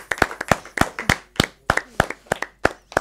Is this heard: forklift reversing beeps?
no